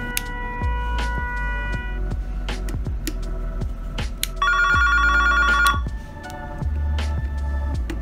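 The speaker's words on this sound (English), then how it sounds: "Flip the switch on the NS-1 to trigger the PA2A's tones." A Valcom PA2A paging tone generator, triggered by an NS-1 switch, plays a factory alert tone over a paging system: loud, repeating electronic ring-like pulses with a denser warbling burst in the middle, continuous for about eight seconds.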